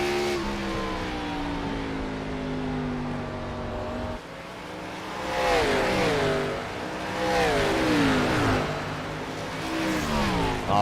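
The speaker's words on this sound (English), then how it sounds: "I hear him have to really play with the throttle there" Race car engine in a sim racing game revs and wavers as the throttle is feathered, pitch sliding up and down, then surging louder and rising sharply in several rapid climbs, steady and close throughout.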